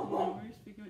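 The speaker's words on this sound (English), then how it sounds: "My dog's freaking out." A dog that is freaking out gives a quick pair of short barks or yips nearby. The barks are brief and faint, and a voice talks over them.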